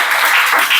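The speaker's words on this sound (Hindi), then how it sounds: "जोरदार ताली बजाइए" A classroom audience bursts into loud, dense applause during a police recruitment exam quiz class, a short continuous wash of clapping.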